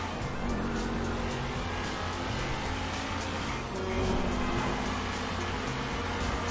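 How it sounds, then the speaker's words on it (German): Sports cars racing in GTA V on PC, with a continuous loud engine drone that rises and falls as the cars speed along, close and steady throughout, with no voice over it. "Fahre ein Rennen gegen die anderen Wagen."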